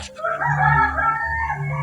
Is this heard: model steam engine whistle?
no